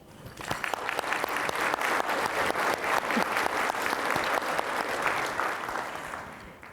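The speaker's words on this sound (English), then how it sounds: "So I ask that you please join me in a round of applause for all of you." An audience at San Marcos's 2019 State of the City address breaks into sustained applause, many hands clapping steadily and fairly loudly before tapering off at the end.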